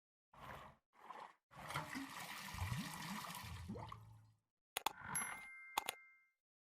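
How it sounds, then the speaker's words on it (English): A bucket is filled with water in a point-and-click adventure game, with a steady rushing pour lasting several seconds, preceded by short splashes and followed by a few sharp clinks and a final trickle. "I'll use the bucket for what it was designed for, to be filled with water"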